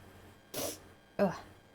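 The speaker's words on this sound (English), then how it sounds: "Sneezing." Two quick sneezes a little over half a second apart, each a sharp breathy burst, close and fairly soft against a quiet background.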